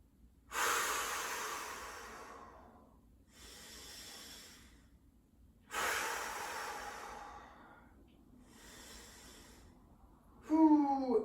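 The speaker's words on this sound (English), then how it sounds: "try your best to take deep, full breaths within your core engaged position" Deep, full breaths drawn through a yoga core-engaged hold, close and soft, with several long airy inhales and exhales spaced a couple of seconds apart, ending in a brief strained sound.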